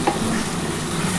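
Chicken kosha being stir-fried in oil released after adding yogurt, a brief, close, steady sizzle with a faint scrape of the ladle at the start.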